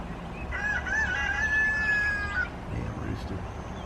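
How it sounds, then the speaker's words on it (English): A rooster crows once in a long, drawn-out call over steady background noise, fairly close, with a short rustle afterward. "Damn rooster."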